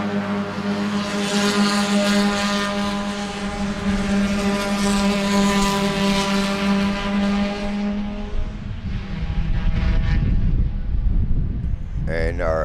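Spec Miata race cars roar past on a racetrack, a loud sustained engine drone with rising and falling pitch as several cars pass close by, followed by a rougher rumble as more cars go through.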